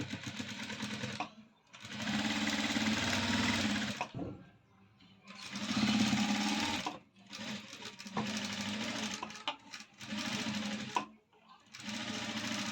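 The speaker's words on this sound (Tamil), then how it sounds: "இந்த இன்ட்டில் ஒரு தையல் போட்டுக்கலாங்க" An electric sewing machine whirs steadily while stitching a cross-cut blouse, running in long sustained bursts with brief stops between them, close and loud, with no speech over it.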